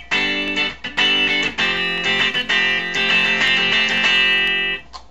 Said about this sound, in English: if you hit it hard you get some distortion